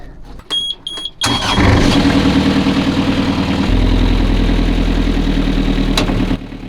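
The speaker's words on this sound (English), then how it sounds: "Running the engine in gear for several minutes" A boat's inboard engine starts after a few brief clicks and beeps, then runs in gear with a loud, steady, close-up throbbing drone that continues to the end.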